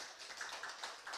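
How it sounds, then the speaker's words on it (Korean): An audience in a church business-mission talk breaks into brief, faint applause, a quick patter of hand claps lasting about a second. "박수 한번 칠까요?"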